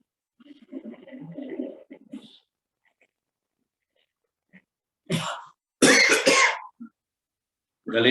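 Coughing bursts during a pranayama breathing practice, two or three harsh, close coughs arriving after a stretch of quiet, soft voiced sounds at the start.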